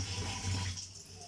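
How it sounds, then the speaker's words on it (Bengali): Water runs steadily from a tap while raw meat is washed in a home kitchen during festival cooking, a loud, constant splashing stream close by that lasts the whole moment. "মাংস ধোয়া চলছে।"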